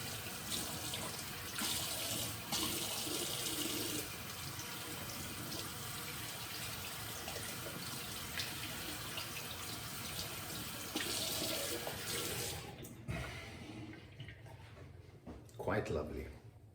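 Tap water runs steadily into a sink to rinse a straight razor after a shave, a continuous hiss that stops near the end, followed by a few faint handling sounds.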